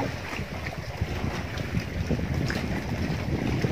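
Steady broadband wind buffeting the microphone, loud and continuous with a low rumbling roar throughout.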